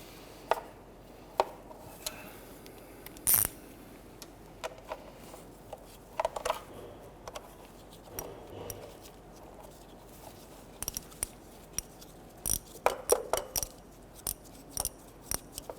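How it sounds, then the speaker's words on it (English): A 1/4-inch ratchet works on the water pump bolts of a 1992-1996 Toyota Camry 2.2L L4, giving sparse, sharp metallic clicks and short clusters of ticks against quiet background. "Now we switch over to a 1/4" ratchet."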